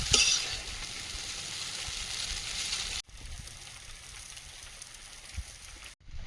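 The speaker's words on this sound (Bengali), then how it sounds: "লবণ নেড়ে চেড়ে ভালো করে চাউমিনটা ভেজে নেবো" Chowmein noodles fry in a pan with salt, a steady sizzling hiss broken by occasional stirring scrapes and two brief cut-offs, close and moderately loud with no talking.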